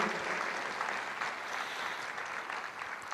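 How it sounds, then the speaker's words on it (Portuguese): A church congregation applauds during a worship service, sustained, close clapping from many hands that fades slightly near the end. "Você pode aplaudir o Senhor"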